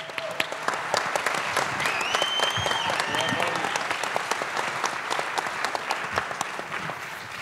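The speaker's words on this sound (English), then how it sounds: "a huge, big round of applause, please, again for Troy" Audience at a Bitcoin conference in Madeira applauds steadily and loudly, a dense wash of clapping from a large crowd that holds for the whole stretch without letup.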